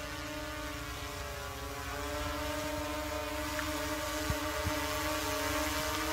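Pixhawk ArduCopter drone propellers whine with a steady layered multi-tone hum as the craft descends to land, fairly close and constant with slight swells.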